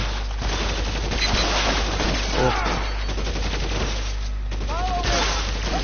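Rapid gunfire crackles through a shootout in the video game L.A. Noire on PS4, dense bursts of shots over a constant low hum, with voices chattering in the background throughout.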